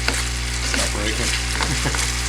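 Close sizzling of a sauce in a hot pan as butter is stirred in, with quick scraping strokes of a utensil over the steady frying hiss and no talking.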